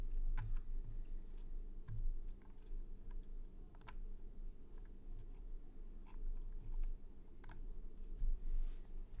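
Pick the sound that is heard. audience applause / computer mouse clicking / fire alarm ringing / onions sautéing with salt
computer mouse clicking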